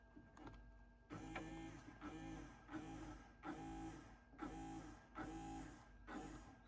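New replacement motor running inside an Akai GX-93 tape deck, a faint, close mechanical whirring that surges in regular bursts roughly every three quarters of a second.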